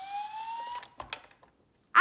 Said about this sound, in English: the fire e-siren